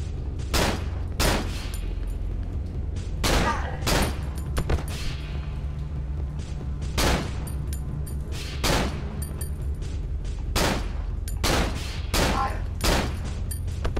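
Repeated bursts of gunfire from the horror video game Cry of Fear, loud sharp shots spaced irregularly over a steady low in-game drone, some shots in quick pairs.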